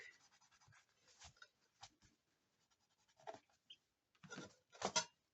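A small eraser rubs on paper in short, faint scratchy strokes, repeated several times with quiet pauses between, ending in a couple of firmer rubs.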